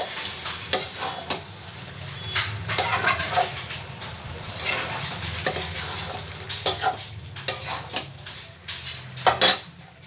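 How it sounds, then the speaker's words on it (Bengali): Taro stolons and shrimp get stirred in a frying pan, a spatula scraping and clattering against the metal in uneven bursts over a low sizzle, no speech. "ভালো করে সব একসাথে আবার একটু নাড়াচাড়া করে দেবো।"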